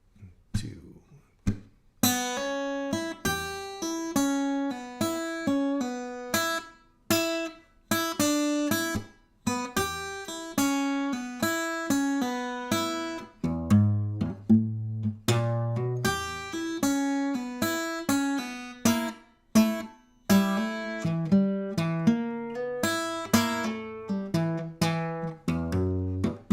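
A big band horn section plays a stop-time passage at a slow tempo, with sharp punctuated chords separated by short gaps and a sustained bass line toward the middle, loud and close with no talking.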